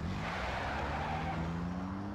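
Car drifting in the Max Payne video game, a steady engine drone with a sustained tire squeal sliding across the surface, continuous and fairly loud with no talk.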